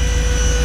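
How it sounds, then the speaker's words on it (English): A steady, loud mechanical whine and hum from the electric-over-hydraulic dump bed hoist on a Chevrolet 3500 low cab forward truck, droning continuously throughout with no talk. "Truck is lifted with a electric over hydraulic hoist"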